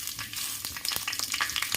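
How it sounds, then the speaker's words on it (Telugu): Whole spices such as cinnamon and cloves crackle in hot ghee, a bright continuous sizzle with quick popping bursts, close and fairly loud, with no voices. "ఇది నెయ్యి హీట్ అయింది, ఇందులోకి వేసుకుందాం."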